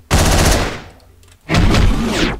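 Gunfire aimed at a door in the video game Hotline Miami: a loud burst of shots at the start that fades out, then after a short lull a second dense burst that lasts to the end, with no talking.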